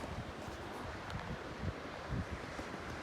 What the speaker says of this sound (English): Leave you with some Nat sound from our sunset right now. Very windy.